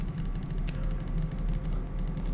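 Rapid clicking of a computer mouse and keyboard during Minecraft play, a steady stream of close, sharp clicks and taps over a low background hum.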